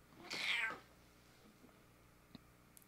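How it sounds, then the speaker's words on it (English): A house cat gives a single close, fairly loud meow that rises and falls over about half a second, followed by near silence with a faint tap or two. "This is my cat."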